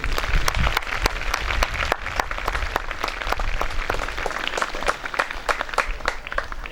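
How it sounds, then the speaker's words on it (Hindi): An audience at a school annual sports day at St. Robert's High School in Hazaribag applauds. Many hands clap in a dense, steady patter, with a few sharper claps standing out throughout. "जोरदार ताली होना चाहिए सर के लिए।"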